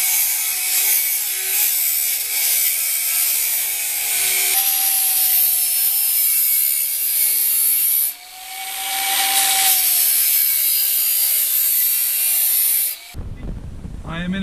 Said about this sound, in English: I'm just going to use the grinder with a flat disc, and this gets an extremely sharp finish